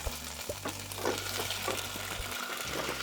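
Curry leaves are dropped into hot oil for tempering, giving a continuous close crackling sizzle with a stirring scrape partway through.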